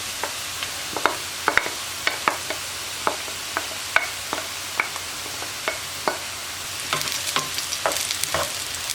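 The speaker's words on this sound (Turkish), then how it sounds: "Şimdi soğanlarımı 3-4 dakika Şöyle kavurdum. Şimdi biberleri ekliyorum." Onions and peppers fry in a pan, a steady broadband sizzle broken by frequent sharp clicks and scrapes of stirring, close and fairly loud, with the frying growing busier toward the end.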